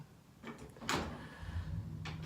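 A household door closing indoors: a soft shuffle, then one clear sharp thump near the middle, followed by a fainter knock at the end, close by with no talking.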